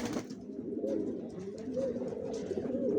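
Young original racer pigeons, leg-tagged and vaccinated, coo in low repeated rolling phrases close up, several birds overlapping steadily with faint chirps and no talk.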